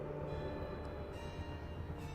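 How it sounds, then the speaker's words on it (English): In the video game Alice: Madness Returns, a train gives a steady, faint rumbling drone with a ringing, bell-like metallic tone, a continuous hum without talk. "My Lizzie, what is this train's destination?"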